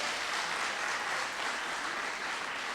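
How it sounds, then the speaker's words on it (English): Steady applause from an audience at a community forum on equitable economic development east of the river, a dense, even wash of clapping, somewhat distant and moderately quiet. "Applause."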